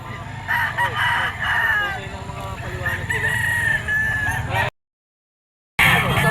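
A rooster crows repeatedly amid the busy din of the Bocaue pet market, with other fowl clucking and honking around it, close and loud before a brief dropout.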